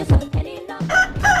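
A rooster crows in a short, loud burst of several harsh, rising calls, repeated in quick succession at close range with no talking.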